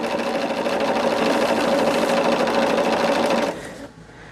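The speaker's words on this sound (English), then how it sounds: "sewing these sashings on all day" A sewing machine stitches sashings onto a quilt in a fast, steady motor whir for several seconds, then winds down and stops near the end.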